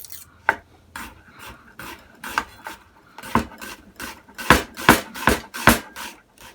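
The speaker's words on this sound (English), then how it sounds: "I have an onion. I'm going to just slice the ends off. Then I'm going to peel it, and then we're going to slice it in half moons." A kitchen knife slices a peeled onion into half moons on a cutting board, a series of crisp, close chopping strokes that start sparse and speed into a steady rhythm, with no talking.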